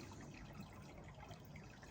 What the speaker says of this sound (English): Sorry if the water's making a bit of noise